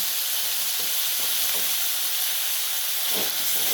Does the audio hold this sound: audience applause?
no